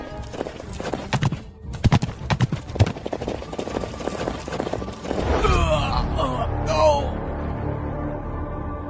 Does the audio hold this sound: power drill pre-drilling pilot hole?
no